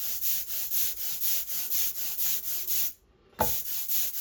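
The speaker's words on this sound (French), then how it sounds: "Et j'étale bien l'encre. Et on l'entend chanter." A hand roller spreads printing ink across a flat surface in a printmaker's studio, making a rhythmic, sticky hiss that swells and fades with each of the roughly eight strokes. There is a brief pause, then a sharp tap before rolling resumes.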